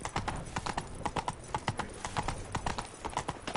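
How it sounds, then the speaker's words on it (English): Hooves of the horse Roach clip-clop in a steady, brisk rhythm in The Witcher 3, the repeated clops fairly close and loud with a soft game ambience behind them. "Come on, Roach"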